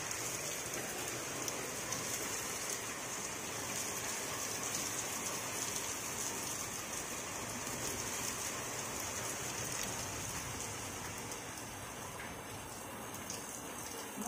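Steady rain pours down continuously, a dense hiss of drops on surfaces with no voices, constant and moderately close.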